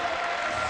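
A crowd at an ADCC 2005 grappling match applauding, a dense steady wash of clapping and crowd noise.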